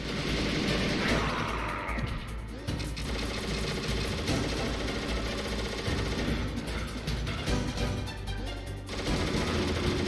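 Gunfire in Metal Gear Solid rattles continuously and densely, mixed with game sound and music at moderate loudness, with no clear gaps.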